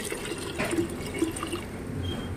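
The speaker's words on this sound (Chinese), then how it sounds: "现在我已经将这个莲子倒进这个高压锅里面，我现在倒水" About a litre of water poured into a pressure cooker over lotus seeds being cooked for a lotus paste mooncake filling, a steady close splashing and gurgling stream with no talk.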